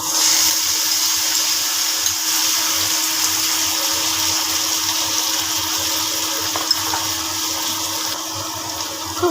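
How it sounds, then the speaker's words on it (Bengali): A kitchen blender grinds ginger, garlic and onion together, giving a loud, steady whirring roar that runs unbroken from start to finish with no voices. "আদা রসুন পেঁয়াজ একসাথে ব্লেন্ডার করা।"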